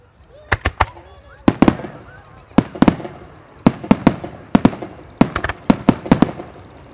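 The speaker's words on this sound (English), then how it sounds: "Maltese shells. First of all, orange with 5 breaks and white glitter. And it's a 3-inch shell." At an outdoor firework festival, 3-inch Maltese multi-break shells burst in quick clusters of sharp cracks and bangs, each break following rapidly on the last, with crowd voices murmuring underneath.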